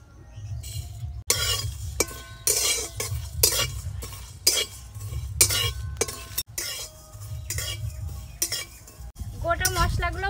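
Whole coriander seeds, dried red chillies and fennel dry-roasting in a kadai while being stirred, giving close, loud, repeated scraping and clinking strokes in an uneven rhythm.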